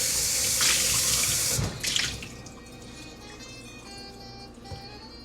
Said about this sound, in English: I moved the sink faucet